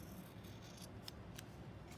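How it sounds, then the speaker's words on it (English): Scissors sliding along hair during a haircut, giving a soft, steady, close-up rasping with a couple of faint metallic snips. "never completely close your scissors so that you slide your scissors to where, see, slide your scissors"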